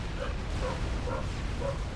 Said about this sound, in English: Apologies if you hear my dog in the background there.